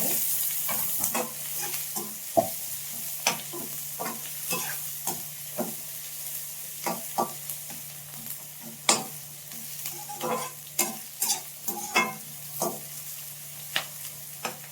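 Thinly sliced onions frying in a pan, a continuous sizzle punctuated by regular spatula taps and scrapes, close and fairly loud with no talking.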